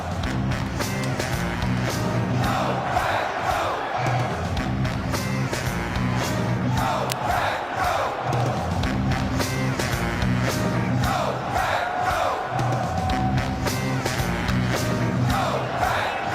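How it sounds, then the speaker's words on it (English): A large NFL draft crowd in Green Bay roars and cheers at a wide receiver pick, loud surging chants and shouts with scattered clapping that keep rising and falling throughout. "Listen to this crowd."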